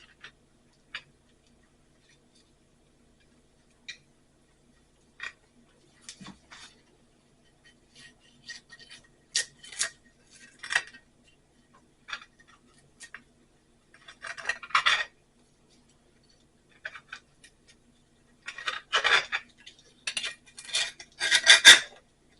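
A knife scrapes and clinks against a cast iron pan while a slice is cut from a one-pot all-day breakfast, with sparse ticks early, then clustered rasping, scraping bursts, close and fairly quiet against silence.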